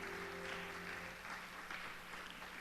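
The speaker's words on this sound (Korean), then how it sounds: "박수로 주님 이 시간 격려합니다" A church congregation at a Wednesday service applauds in a steady, distant patter of clapping. A low sustained organ-like tone sounds beneath it at the start.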